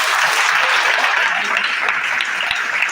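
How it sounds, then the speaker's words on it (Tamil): An audience at a government college of education event in Vellore breaks into dense, continuous applause that stays loud and even throughout, with no voices above it. "எழுப்புங்கள் உங்கள் கரகோஷத்தை."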